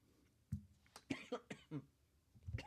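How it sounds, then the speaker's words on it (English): A person coughs several times in short, close bursts with brief gaps, a few sounding like throat clearing, in an otherwise quiet room. "Sorry, I keep coughing."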